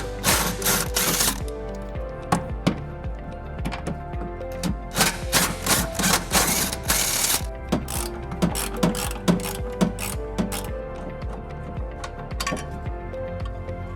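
A ratchet wrench clicks rapidly and repeatedly while tow hook bolts are loosened on a 2010 Nissan Rogue, with bursts of metallic ratcheting, pauses and occasional clinks, close and loud.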